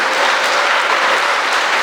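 A congregation at a church sermon breaks into loud, dense applause, a continuous close wash of many hands clapping with no pauses.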